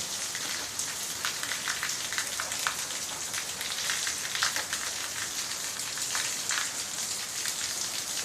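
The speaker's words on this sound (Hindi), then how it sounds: "इस वक्त बारिश है" Steady rain in Togo patters down on a surface, a dense continuous hiss with scattered drops, constant in level throughout.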